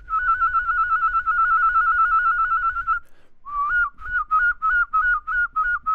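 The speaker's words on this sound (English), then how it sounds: "How to do a double tone whistle." A person whistles with the lips in a double-tone style, first a long wavering warble, then a short pause, then a run of quick pulsed notes that repeat rhythmically.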